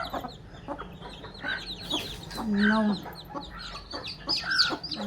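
A desi hen clucks repeatedly while her eleven chicks cheep in high, rapid peeps close by; a person speaks a word briefly.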